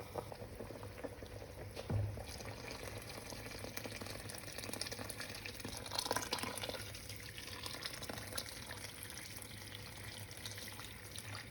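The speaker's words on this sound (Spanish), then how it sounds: "Le voy a agregar más agua caliente, entonces no se corta el hervor." Hot water is poured into a boiling pot of soup, giving a steady bubbling, gurgling liquid noise at low, even volume, with a couple of brief louder splashes, and no talking.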